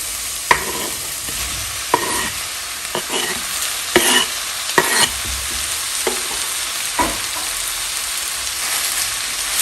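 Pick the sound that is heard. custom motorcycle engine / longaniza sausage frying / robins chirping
longaniza sausage frying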